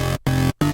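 Three short chord stabs from the Sytrus synth, with a heavy chorus effect giving a thick, wobbly tone, each cut off sharply by silence.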